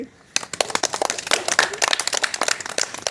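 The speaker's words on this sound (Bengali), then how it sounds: "সবাই হাততালি" A group of children in a primary school claps during a body-part game, a burst of many overlapping hand claps starting suddenly after a quiet moment and continuing briskly and loudly.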